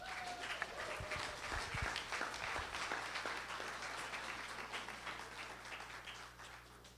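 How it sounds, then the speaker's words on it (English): Applause from the audience at a community meeting on school funding, a steady wash of many hands clapping at moderate distance that holds for several seconds and thins slightly toward the end. "One more round of applause for everybody."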